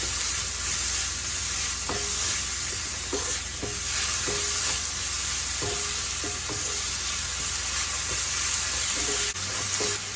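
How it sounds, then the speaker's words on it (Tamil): Raw mango pieces sauté in a pan for mango rice, giving a steady, close sizzle with a persistent high hiss and irregular light scrapes and taps of a spatula stirring, no voices present. "இது 2 நிமிஷத்துக்கு நல்லா வதங்கிட்டோம். மாங்காய் நல்லா வதங்கிடுச்சு."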